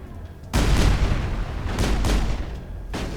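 Gunfire in the video game Mass Effect erupts as a few heavy, booming bursts in quick succession, loud and close, each blast ringing out briefly before the next.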